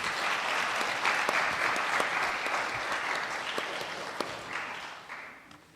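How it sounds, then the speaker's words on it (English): A sustained round of applause from a seated panel audience, steady dense clapping that holds for several seconds before fading out. "Can we have a round of applause for the panel?"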